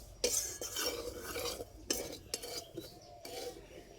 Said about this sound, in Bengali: সুজির কাঁচা গন্ধটা যতক্ষণ না যাচ্ছে ততক্ষণ এইভাবে নাড়তে থাকবো।